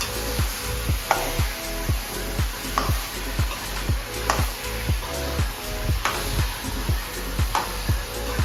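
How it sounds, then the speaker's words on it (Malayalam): Chicken is stirred into masala in a hot pan for a Kerala-style nadan chicken curry, a steady sizzle broken by regular scraping strokes of a spoon against the pan, repeating roughly every half second, close and clear with no talking. "എന്നിട്ട് നമ്മുടെ ചിക്കൻ ഈ മസാലക്കൂട്ട് കൂടി നന്നാക്കി അങ്ങ് മിക്സ് ചെയ്തെടുക്കുക"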